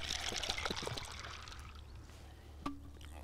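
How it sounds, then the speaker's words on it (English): Water is poured into a pellet pump holding a handful of 8mm coarse fishing pellets, giving a close, splashy trickle that is strongest at first and then fades, followed by a small click near the end. "put them in the pump, just add some water"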